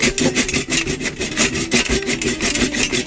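Rapid back-and-forth strokes of a hand saw rasping through a hard coconut shell, close and loud, in a quick steady rhythm.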